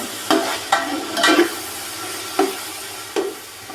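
Whole cloves, cinnamon and black peppercorns fry in oil for a matar pulao, a close, continuous sizzle punctuated by five or six sharp scraping stirs of a spoon against the pot, with no talking.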